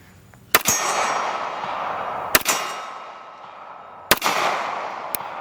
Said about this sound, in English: And you hear that ding, ding, ding, ding, ding.